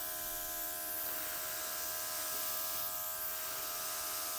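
Air blower used to spread poured silver acrylic paint in a Dutch pour, giving a steady, close, tonal motor whir and airy rush that continues unbroken throughout.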